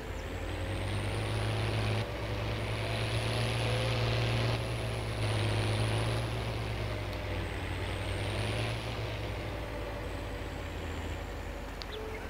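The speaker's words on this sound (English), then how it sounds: "I forgot that this tractor was still running." A tractor engine idles unattended on a farm, producing a loud, steady, continuous drone that hums evenly throughout with no voices over it.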